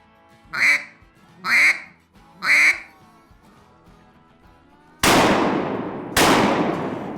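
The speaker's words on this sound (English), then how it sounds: "whenever I'm blowing the quack that I'm opening and closing my hand" Three evenly spaced, loud quacks come from a handheld duck call, followed by two sharp, sudden noisy bursts.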